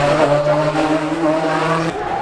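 A historic touring car runs up the Goodwood hillclimb on the overrun, its engine note loud and close with a steady droning pitch and crackling exhaust throughout.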